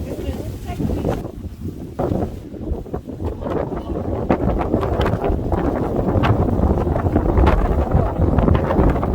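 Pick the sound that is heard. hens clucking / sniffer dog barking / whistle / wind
wind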